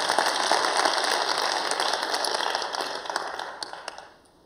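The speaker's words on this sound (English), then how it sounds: "More applause, I think." Applause from the audience at the Skoll World Forum 2017 closing ceremony, a loud, dense wash of clapping that holds steady, then thins out and fades in the last second.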